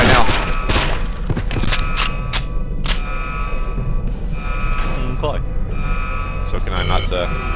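Shotgun blasts in James Bond 007: Nightfire ring out as a string of sharp, close reports over busy game noise and a steady hum, with a voice talking among them.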